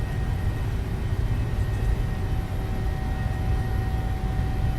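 A PMDG 737-700 jet in Microsoft Flight Simulator rolls down the runway on takeoff, giving a steady loud engine roar and broad rushing rumble throughout with no voices.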